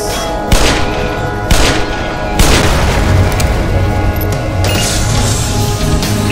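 Gunshots in Black Mesa, three loud, sharp reports about a second apart, followed by a rumbling, busy stretch of continued combat noise.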